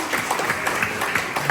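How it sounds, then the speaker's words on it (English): Audience applause at an evening charity concert before a ukulele orchestra performs, a brief steady burst of many hands clapping, moderately loud and continuous throughout. "which I believe is worthy of some applause"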